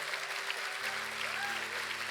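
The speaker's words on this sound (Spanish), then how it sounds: "Aplauda fuerte porque él lo está viendo." Church congregation clapping loudly as a worship ministry is introduced, a steady roar of hands with a sustained musical tone humming underneath.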